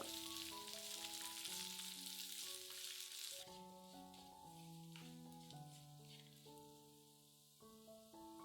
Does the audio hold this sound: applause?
no